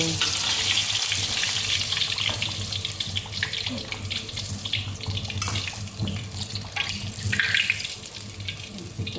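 Continuous loud sizzling and crackling of fish frying in hot oil, with a watery hiss and occasional clatter mixed in; no talking.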